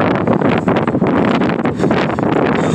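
Outdoor wind gusting into a microphone, producing loud, continuous buffeting rumble with fluctuating bursts throughout.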